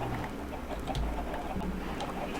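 Chickens cluck in a Minecraft-style video game, several short, scattered clucks and bird calls over a soft background, moderately close with no talk.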